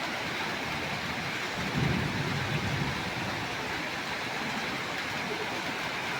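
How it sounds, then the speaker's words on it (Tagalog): Heavy rain pours down during a tomato harvest, a dense, steady broadband hiss with a deep low rumble beneath it and a brief swell near the two-second mark, and no voices. "grabe ang kakusog sa ulan"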